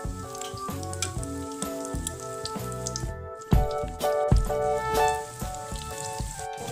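Bamboo shoot spring rolls fry in hot oil with a steady sizzle and crackle, heard close under backing music with no talk.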